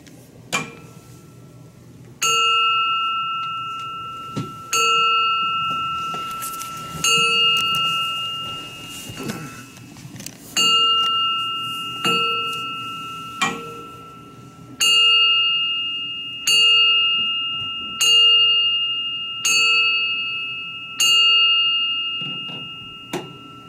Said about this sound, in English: Margaret Peaches Sanovic, is going to chime our bell 11 times.